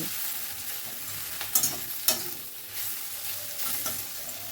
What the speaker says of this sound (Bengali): শিমটা রান্না করতে দিয়েছিলাম। দেখুন, একটু নাড়াচাড়া করে দিচ্ছি।